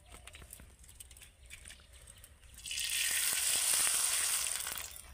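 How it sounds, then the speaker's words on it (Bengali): Homemade raw potato papad dropped into hot oil, quiet crackles at first, then a sudden loud burst of sizzling that swells and holds for a couple of seconds before easing slightly. "কত সুন্দর সঙ্গে সঙ্গে দেখুন পাঁপড়টা ভাজা হয়ে যাচ্ছে।"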